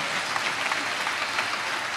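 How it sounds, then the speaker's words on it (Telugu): Church congregation clapping hands together in praise during a Telugu sermon, a steady dense patter of many hands filling the room, continuous and fairly loud without a break. "చప్పట్లు కొడుతూ ప్రభుకి స్తోత్రాలు చెప్దాం"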